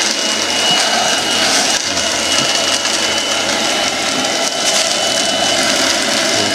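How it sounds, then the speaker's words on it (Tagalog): A hair blower converted into a homemade vacuum cleaner runs with a loud, constant, close-up whooshing whine that stays unbroken throughout. "Ang emergency vacuum cleaner mga ka-DIY."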